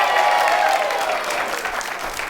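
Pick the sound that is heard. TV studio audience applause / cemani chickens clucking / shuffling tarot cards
TV studio audience applause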